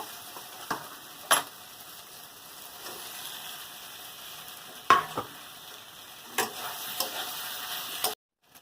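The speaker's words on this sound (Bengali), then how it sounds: "এরকম ভালো করে কষিয়ে নেব কিছুক্ষণ" Pointed gourd and potatoes sauté quietly in spice masala with a faint, soft sizzle, broken by occasional sharp scrapes and taps of a spatula against the pan, before a sudden cut to silence.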